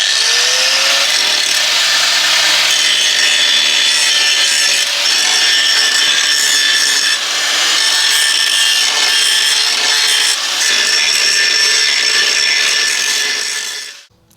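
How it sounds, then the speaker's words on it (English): Steady, loud abrasive grinding of metal on a BMW E46 rear subframe, a continuous harsh high-pitched rasp from an angle grinder held close, running unbroken for about fourteen seconds before cutting off abruptly, with no talking. "Now we're going to grind all this down and get it ready to be welded."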